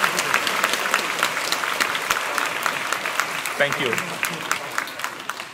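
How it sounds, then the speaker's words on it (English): An audience at a youth orchestra concert applauds a young soloist's concerto debut with steady, dense clapping, and a voice briefly speaks over it near the end. "Can you give him another round of applause?"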